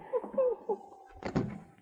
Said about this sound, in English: As soon as the door was closed